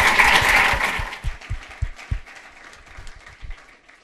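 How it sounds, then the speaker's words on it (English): Conference audience applause after a session, a loud burst of many hands clapping that thins out into scattered claps and low thumps as it dies away. "Another round of applause for an awesome session."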